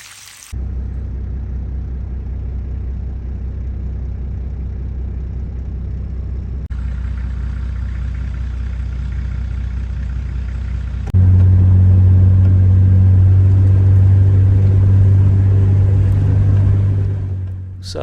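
A car drives toward Mount Buster, a steady low engine rumble with road noise throughout that grows louder and heavier in the last third, with no talking.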